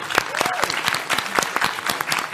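A live convention panel audience at PAX West applauds, a burst of crisp claps at moderate loudness, with a whoop or cheer rising briefly near the start.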